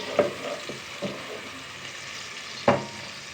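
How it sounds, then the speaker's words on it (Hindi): Onions fry in hot oil until browned for a chana chole curry, a soft steady sizzle with a few louder pops and stirring clatters, close by and without speech. "जी तो हमारी प्याज ब्राउन हो चुकी है।"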